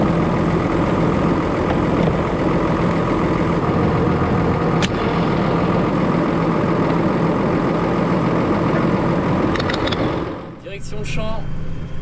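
A farm tractor engine runs steadily on a French farm as it heads out to prepare the field for barley, a loud continuous low drone that dips and shifts near the end.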